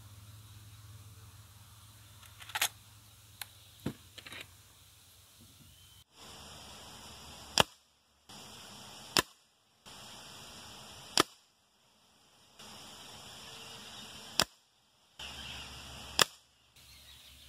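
Several sharp, isolated pops ring out one at a time with pauses between them, shots from a Norica Dragon air rifle firing hollow-point pellets, each clean and quick against quiet background hiss.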